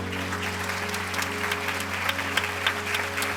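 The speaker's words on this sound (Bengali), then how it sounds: "আমরা সব শিল্পীদের জন্য জোরে হাততালি দেব।" Audience applause at the Meril Prothom Alo Award 2025 ceremony: a dense, sustained round of clapping from a large crowd, holding steady throughout with a continuous tonal musical backdrop underneath.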